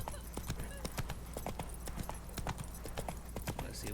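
Hooves of Geralt's horse Roach in The Witcher 3: Blood and Wine clop in a steady walking rhythm along a path near a sunflower field, crisp and close, with a faint continuous ambient bed underneath.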